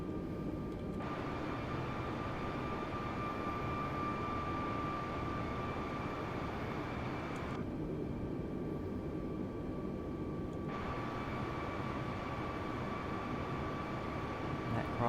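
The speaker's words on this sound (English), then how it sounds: "Aircraft coming into land." An Airbus A320neo of United Airlines descends to land in Microsoft Flight Simulator 2020, giving a steady broadband engine and airflow roar with a faint tonal whine, loud and unbroken throughout.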